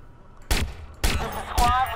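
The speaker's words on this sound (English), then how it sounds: "Help, I hear gunfire!" Gunfire in the video game Watch Dogs: three sharp, loud shot bursts spaced about half a second apart, each with a short ringing tail.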